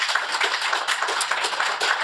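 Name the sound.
audience applause for panel guest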